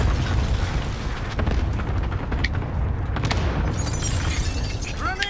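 An enemy airstrike blasts in Call of Duty Warzone, a continuous heavy rumble of explosions with crackling debris and sharp pops layered over it, loud and sustained throughout.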